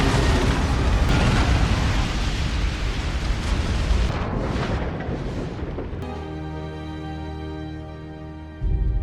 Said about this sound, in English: A U.S. military ferry exploded in the waters of New Orleans